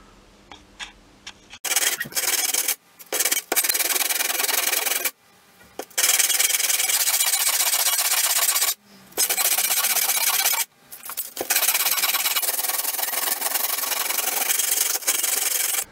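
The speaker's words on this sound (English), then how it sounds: "I'm going to try and level that up a bit on some sandpaper." A steel chisel rubbed back and forth on sandpaper to flatten its end, a steady rasping scrape in long strokes broken by short pauses, close and fairly loud with no talk.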